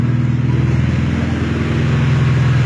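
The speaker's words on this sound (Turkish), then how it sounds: "Burada mesela araç patlatmaya giriyor." Mazda Lantis 1.8 engine on a standalone ECU held in launch control, a loud, close, steady rev limiter drone with rapid regular pulsing and popping.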